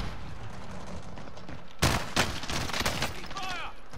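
Gunfire in a video game breaks out as a sudden burst of several rapid, loud shots, then a few scattered cracks, all over steady background noise.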